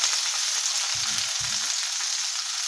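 Tomato and onion fry in a pan for an egg breakfast, making a steady, bright sizzle that runs throughout, with two soft low knocks partway through and no talking.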